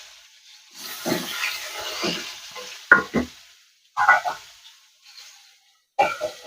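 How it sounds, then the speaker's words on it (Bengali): Bursts of sizzling come and go as pointed gourd fries in a pan over medium heat, between scraping stirs, with quiet gaps in between; no voices. "মিডিয়াম আগুনে আমরা পটলটা ভাজবো।"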